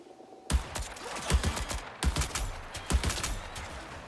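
Rapid bursts of turret gunfire in the Marathon video game, loud and close, with repeated volleys of shots starting abruptly after a brief quiet moment and continuing in clustered salvos.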